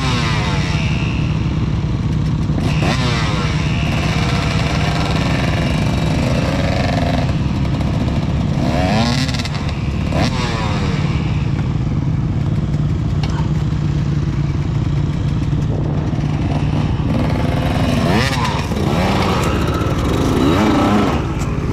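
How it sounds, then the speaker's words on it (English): A motorcycle engine revs and labours loudly as the bike climbs a creek bank at Dora Creek, close by for the whole stretch, with clattering from the terrain and rising and falling throttle. "Get a bit of momentum to get your back wheel up that bit"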